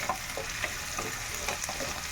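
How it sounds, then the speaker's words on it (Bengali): Oil sizzles and crackles steadily at close range as green chilies fry, a soft frying hiss with small pops and stirring scrapes, no talking. "কাঁচা মরিচ দিছি ওরা ভালো করে ভাজা"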